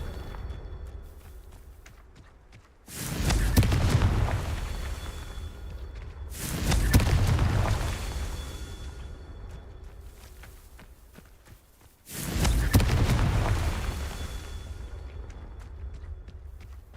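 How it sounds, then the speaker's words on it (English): Three loud, booming blasts from the Confringo fire spell in the video game Hogwarts Legacy, each bursting suddenly and rumbling away over a few seconds, spaced irregularly apart with low game ambience between them. "Oh, that's probably that new spell that I got. Confringo!"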